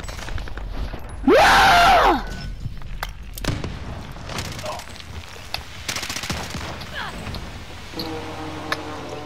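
Gunfire in the video game Call of Duty: Modern Warfare, with sharp, scattered shots and short bursts ringing out over an ongoing game soundscape and a voice nearby.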